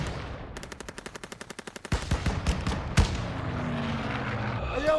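Gunfire in Call of Duty WW2 during a church battle: a rapid machine-gun burst of evenly spaced shots, then heavier irregular blasts and a loud boom, with shouting voices and battle clamor layered underneath.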